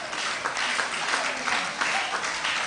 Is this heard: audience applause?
yes